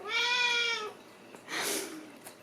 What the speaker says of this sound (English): I try to get Haku's meow on camera, but it's really hard.